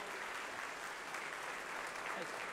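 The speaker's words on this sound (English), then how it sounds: "Big round of applause for Joel" Applause from an audience at a mixing conference talk, a dense and even patter of clapping that stays at a moderate level for the whole stretch.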